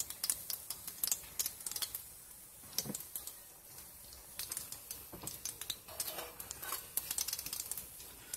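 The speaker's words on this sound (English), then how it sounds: "this one, we're just gonna flip it" A Tunisian brik fries in oil in a pan and gives off a quiet, irregular crackle of sharp pops and spits that continues throughout.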